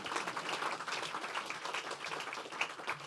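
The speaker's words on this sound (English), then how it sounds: "They deserve a round of applause" Audience applause at the 2022 HOLA Awards ceremony, a soft, steady wash of many hands clapping, fairly distant and even throughout with no talk over it.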